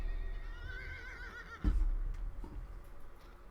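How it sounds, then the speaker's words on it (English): A horse in a video game lets out a clear, drawn-out whinny followed by a snort and a short huff, heard alone at moderate volume. "Get on my horsey."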